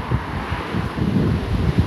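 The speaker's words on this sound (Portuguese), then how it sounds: "E vim registrar aqui a força do vento do ciclone subtropical" Strong gusting wind from a subtropical cyclone on high ground above Porto Alegre at about 9 degrees, roaring and buffeting the microphone in rough low surges with no voices.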